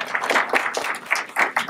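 An audience claps at the Film Independent Spirit Awards nominations press conference, a brief scattered round of applause heard fairly close with uneven rhythm.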